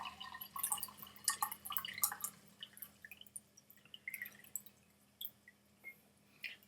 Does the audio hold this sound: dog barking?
no